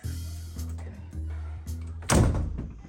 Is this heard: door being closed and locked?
yes